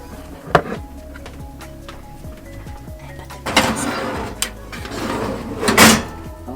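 The oven door of a gas stove in a boat galley is opened with a few clunks and thuds, then a louder rattling scrape of metal, close by amid soft background clatter.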